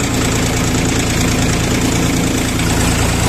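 A Bulat 244 mini tractor engine idles loud and close, a continuous rough chugging rumble with a steady rhythmic knock and no pauses.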